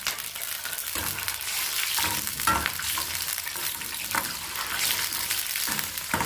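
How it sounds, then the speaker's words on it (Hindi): Thick dried red chillies, cumin seeds and chopped green chillies fry in hot oil for a dhaba-style dal tadka, with a steady crackling sizzle and a few louder pops and stirring bursts, close and alone. "3 से 4 लाल मोटी मिर्ची और 1 चम्मच जीरा। इसको हम भून लेंगे। साथ ही मैं इसमें डाल दूँगी 4 कटी हरी मिर्ची।"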